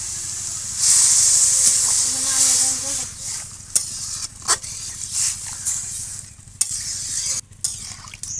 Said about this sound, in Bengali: এবার আমি এতে পরিমাণ মতো জল দিয়ে দেবো।